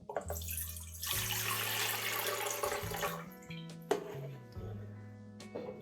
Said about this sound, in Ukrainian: Виливаємо нашу воду в каструлю.